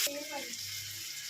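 Tomatoes sauté in a hot pan for a prawn thokku, giving a soft, steady sizzle that stays faint and brief, with a voice speaking briefly at the start.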